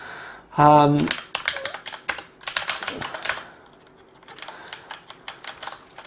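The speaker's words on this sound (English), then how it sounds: "They do feel really nice. It's a really slick mechanical key. It's quite a loud typer." Keys clatter on a Corsair Vengeance K90 mechanical gaming keyboard in loud, quick bursts of typing, close by, with a short vocal sound near the start.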